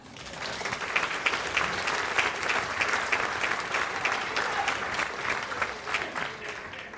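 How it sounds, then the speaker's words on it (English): Audience at a comedy roast applauding steadily, a dense, even clatter of many hands clapping throughout without a break. "So, a round of applause for Ron."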